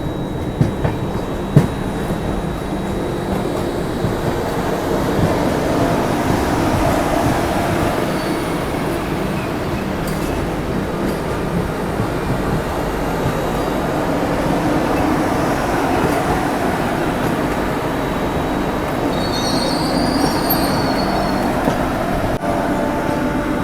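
The Vande Bharat Express from Varanasi to Ranchi passes near Pandit Deen Dayal Upadhyay Junction, a loud continuous rumble of train wheels on rails lasting throughout with faint squeal near the end.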